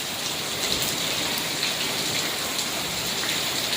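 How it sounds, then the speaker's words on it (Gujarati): Heavy rain pours steadily during a thunderstorm at dusk, with water collecting on a flat rooftop. The hiss stays dense and constant throughout, close and unbroken, with no voices over it. "હવે અત્યારે વધુ વરસાદ થઈ ગયો છે"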